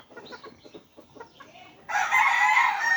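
Chickens cluck in a rapid, close rhythm, then a rooster breaks in with a loud, sustained crow that runs to the end.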